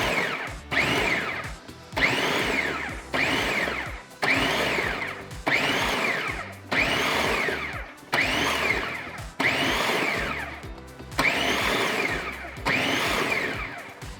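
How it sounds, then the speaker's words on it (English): Food processor pulsing salsa ingredients in bursts, about nine loud whirring pulses of roughly a second each with short pauses between them, close up and with no talking. "Now we're just gonna pulse it until it's chopped up."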